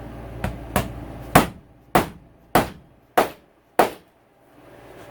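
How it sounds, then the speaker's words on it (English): A hammer whacking a bearing onto a dirt bike steering stem, seven sharp metallic strikes at an even, unhurried pace, loud and close with short ringing decays. "I'll give it a couple more whacks, but I think I'm taking this to the press."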